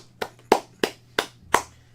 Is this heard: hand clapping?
yes